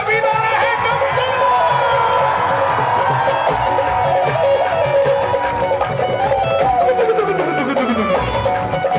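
Live Shyam bhajan jagran crowd cheering and shouting throughout, a dense steady roar of many voices with tonal singing or music layered over it, loud and close.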